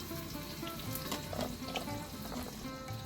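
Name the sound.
chopped onion frying in hot oil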